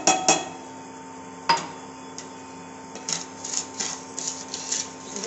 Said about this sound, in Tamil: திணை வறுத்துக்கிறேன்.